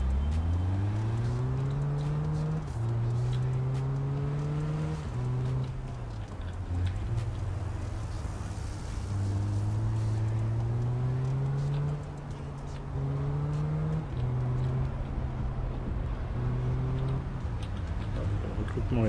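Engine drone of a car driving in the life-sim game Big Ambitions, a steady low hum that rises and falls in pitch through gear-like shifts, continuous and fairly close.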